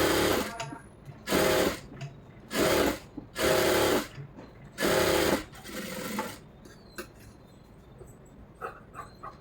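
A sewing machine stitches a blouse lining in short bursts, about five separate runs of rapid whirring stitches with pauses between, followed by soft fabric handling and small clicks.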